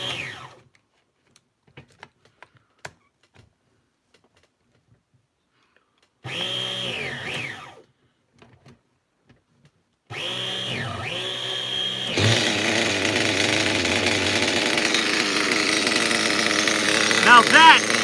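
An OFNA Jammin nitro RC truck engine buzzes in short bursts, then settles into a steady, close idle running continuously; voices talk between the bursts.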